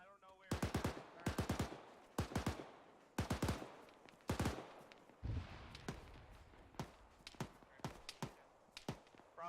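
Sharp bursts of video game gunfire crack out in quick clusters, loud and close, with rapid short volleys separated by brief gaps.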